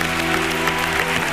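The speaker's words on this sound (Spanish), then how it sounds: "Vamos a repartir este aplauso con el maestro Alejandro." An audience at a talent show's grand final applauds in a dense, steady wash of clapping with no break.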